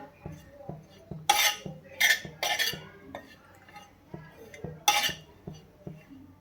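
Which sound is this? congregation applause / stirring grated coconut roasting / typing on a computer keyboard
stirring grated coconut roasting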